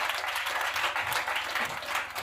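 A church congregation applauds Jesus Christ during an evening preaching service, with steady, dense clapping from many hands filling the room throughout, loud and continuous with no pauses.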